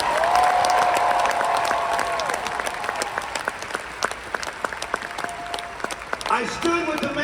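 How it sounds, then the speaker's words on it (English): Audience applause at a motivational talk swells into steady, dense clapping with some shouts and cheers mixed in, sustained for several seconds before it thins; a sustained tone and scattered voices sit beneath the crowd noise. "You should clap your hands and shout like you heard me."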